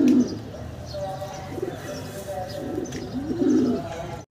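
Young domestic pigeons in breeding mode coo loudly and close at a farm loft, overlapping throaty rolling calls repeating in rhythmic bursts over constant flock chatter.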